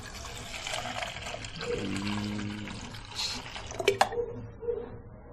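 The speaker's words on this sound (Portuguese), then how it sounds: "Então nós colocamos meio litro de leite." Half a litre of milk poured into a pot for potato bread, a soft steady liquid pour and trickle running for a few seconds with faint kitchen clatter near the end.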